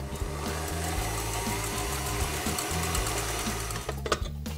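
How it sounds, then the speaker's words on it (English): Stand mixer whisking cream with vanilla seeds to soft peaks for topping a chocolate pistachio brownie, a steady close mechanical whir with a rapid rhythmic motor pulse, running continuously without talk. "we put it with our whisk onto the machine and we whisk it to semi-peaks"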